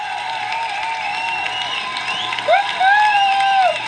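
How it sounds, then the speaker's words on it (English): A crowd of seminar attendees breaks into applause and cheering, joined by high whoops and sustained vocal cheers that swell midway, with the clapping staying moderately loud. "Give yourself a round of applause."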